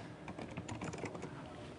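Rapid keystrokes on a computer keyboard while entering text into a HyperCard field, a quick close-up burst of clicks with no talk.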